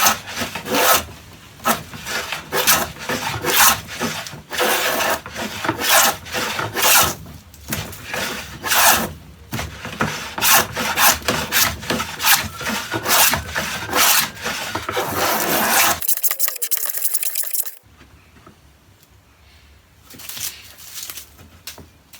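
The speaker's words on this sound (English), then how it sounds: "We should be able to start to cut that dado, starting at this end." An early-1900s Stanley No. 45 hand plane cuts a dado along a wooden board in long, loud, rhythmic rasping strokes, each pass scraping steadily before a pause and lighter handling noise at the end.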